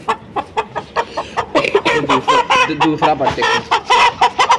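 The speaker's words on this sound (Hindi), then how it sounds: "मैं ना आपको इस मुर्गी का शो कराता हूँ, प्योर सील है माशाल्लाह।" A grown rooster raised from a small chick, now a pure-bred fighting type, gives a run of repeated close clucks and throaty calls, with a voice speaking briefly under them.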